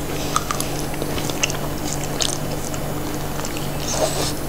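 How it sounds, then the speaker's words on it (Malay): Small crunchy squid with sambal chewed during a mukbang meal, steady close crunching and mouth noises over a constant background hum, no talk. "Rangup dia punya sotong."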